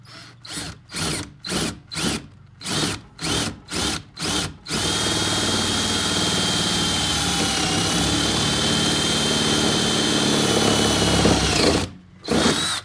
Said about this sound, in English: So we're going to drill our 1/2 inch hole at approximately a 45-degree angle.